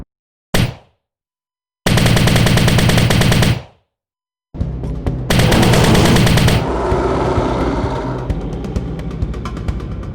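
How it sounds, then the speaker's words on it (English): A layered machine gun effect built from dumpster slams, a textbook, wrenches and kettlebells fires in loud rapid bursts, two short volleys separated by silence, then a longer sustained stream that tails off into metallic rattling. "All layers played together, the machine gun sounds like this."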